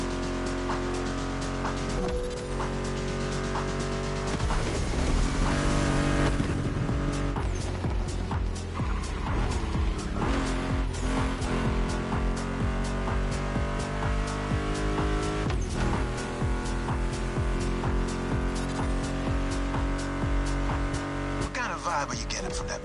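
Mustang GT muscle car engine in The Crew Motorfest racing game, a loud steady roar with revving and gear changes, layered under rock guitar music with occasional talk.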